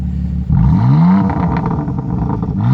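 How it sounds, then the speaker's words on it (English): A BMW M4 Convertible engine revs hard close by, its exhaust surging up in a sharp blip then settling into a throaty, burbling idle with crackles. "Let's go ahead and do some rev time with Nicole."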